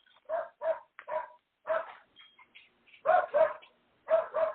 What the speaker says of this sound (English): My dog will bite his dog because he's barking incessantly.